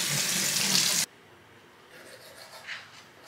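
Tap water running hard into a bathroom sink during face washing, a loud steady rush that cuts off abruptly, followed by quiet room tone with faint small splashes and movement.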